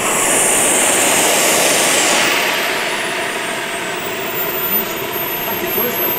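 A large 1:5 scale RC F-16 model jet with a turbine engine, 3.5 metres long, flies past at a demo, its loud whooshing turbine roar and high whine holding steady and then slowly fading slightly as it moves away.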